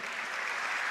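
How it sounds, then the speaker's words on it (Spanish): Church congregation applauding a group of intercessor women, a short, even burst of dense clapping heard from some distance, soft and without any talk. "vamos a darle un aplauso"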